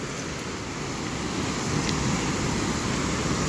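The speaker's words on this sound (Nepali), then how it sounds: "पानी बगिरहेको छ।" Fast-flowing river water rushes in a continuous broad roar, loud and close, with some wind buffeting the microphone and no voices.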